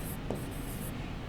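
Pen or pencil scratching across paper while numbers for a profit-and-loss maths sum are written out, a steady close scraping texture with brief pauses between strokes.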